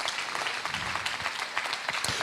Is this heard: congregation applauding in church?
yes